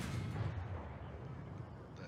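An artillery shell strikes a Cromwell B tank in a tank battle game, a heavy, rumbling impact that is loud at the start and then fades into a sustained low roar over about two seconds.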